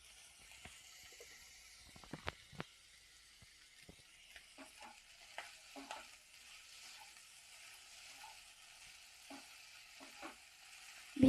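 Vegetables stir-fried with soy sauce in a pan give a soft, faint sizzle broken by scattered scrapes and taps of a utensil, with a louder clatter at the very end.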